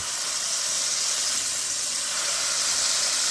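A beginner's burger patty pressed down and searing in a hot pan, with mayonnaise nearby. A steady, loud hissing sizzle runs continuously and evenly throughout, with no voices.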